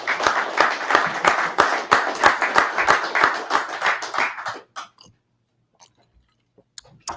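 Audience clapping at a talk show, a dense run of claps lasting about four and a half seconds before cutting off sharply, followed by near silence with a few faint taps.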